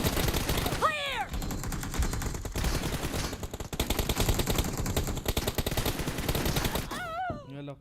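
Dense, continuous gunfire from the mobile shooter game War Mobi, with rapid bursts layered into a loud, busy wash for several seconds and short sweeping electronic tones near the start and end.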